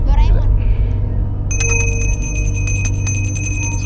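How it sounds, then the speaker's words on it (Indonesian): A magic bell from a Doraemon-themed comedy show rings in a rapid series of bright metallic strikes over a steady low hum, with speech heard at the start. "Ini lonceng ajaib."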